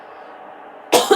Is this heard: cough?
yes